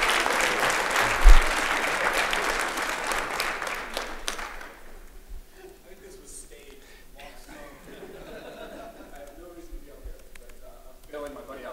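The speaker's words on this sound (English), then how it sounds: "Give him a warm round of applause." Audience at a MACNA aquarium conference presentation applauds loudly for several seconds with a few chuckles, then the clapping fades into scattered murmurs and someone speaking.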